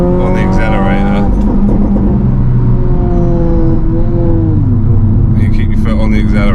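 Honda Civic FN2 Type R engine revving and accelerating under flat-foot shifts, a loud steady drone with rising pitch that dips briefly at each gear change, heard from inside with a voice talking over it.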